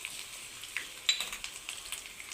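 Dried red chillies hit oil in a pan with ginger pieces on a low flame, a soft sizzle with a string of light crackles and pops.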